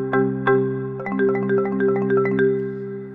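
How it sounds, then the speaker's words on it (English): Marimba struck with mallets, two ringing low strikes followed by a quick, even run of bright wooden notes over a sustained resonance, close and clear with no voices. "The marimba is a percussion instrument and I play it with mallets and it sounds like this."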